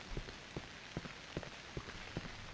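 Rain in the horror video game Cry of Fear falls as a steady hiss across the whole stretch, with soft, irregular drip ticks and taps on top, moderately quiet and with no voices.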